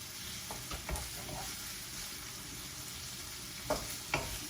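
Sliced longganisa sausage is stir-fried with vegetables and prawns in a home kitchen, with a steady quiet sizzle and a few brief scraping stirs, no speech.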